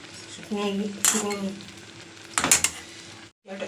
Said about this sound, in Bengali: আমি জলটাকে পুরো শুকিয়ে আস্তে আস্তে নাড়বো যেন আমগুলো নামে না